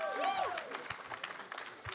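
An audience at a GDQ speedrunning marathon applauds during a Mega Man X2 race, with a dense, fairly quiet patter of clapping and crowd noise running under a faint electronic game melody.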